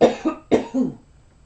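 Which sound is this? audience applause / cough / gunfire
cough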